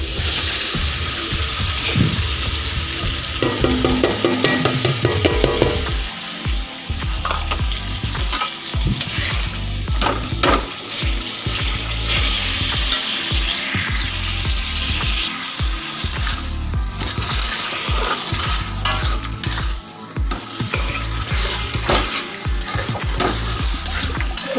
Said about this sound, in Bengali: এই চিকেনটা আমরা এর মধ্যে দিয়ে দিচ্ছি